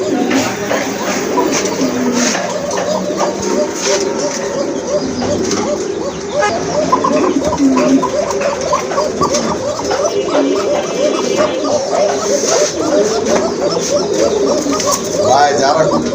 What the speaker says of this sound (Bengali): এটা কোকাটা কিন্তু খুবই সুন্দর ডাকতেছে,